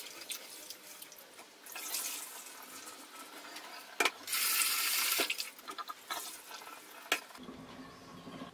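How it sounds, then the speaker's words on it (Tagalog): Glutinous rice being washed in a bowl of water by hand, with soft swishing and sloshing, brief bursts of running water and small clacks against the bowl, close and moderately quiet. "hugasan muna natin yung glutinous rice"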